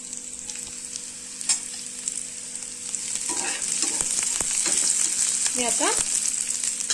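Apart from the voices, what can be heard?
onion being sautéed in a pan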